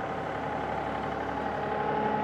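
A tractor engine runs steadily at a farm cleanup after a barn fire, a constant idling drone heard close with no talk.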